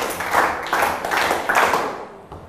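A short round of clapping from students in a classroom, several overlapping hands applauding steadily for about two seconds, fairly loud and close.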